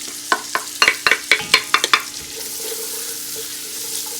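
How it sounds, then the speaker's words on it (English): Holy Trinity vegetables with garlic and parsley hitting a hot pan over high heat, starting with a quick run of sharp stirring clatters, then settling into a steady, soft sizzle with no talking. "It's going to saute here over high heat."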